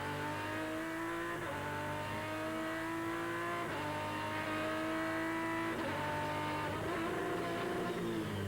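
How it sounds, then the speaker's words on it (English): A V10 race car's waffly exhaust note roars continuously at Zolder, the engine pitch rising through the revs and dropping at each gear change, loud and close throughout. "listen to the much more waffly exhaust note of the V10"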